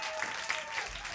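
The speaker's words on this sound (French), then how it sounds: "on peut les applaudir encore plus fort que ça" An audience at an intimate concert claps for the performers, a brief, steady patter of applause over a quiet room.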